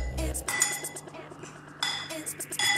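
Metal utensil clinks against a bowl while seasoned chicken pieces with salt and pepper are mixed for sweet and sour chicken, short bright taps in two bursts, close and fairly quiet.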